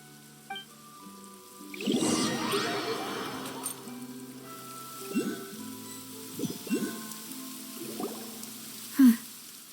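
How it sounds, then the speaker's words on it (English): Soft, steady patter of rain runs under a quiet scene in Genshin Impact, with a few distinct splashy or rustling bursts and a sharper tap near the end. "It's been raining non-stop for a few days now."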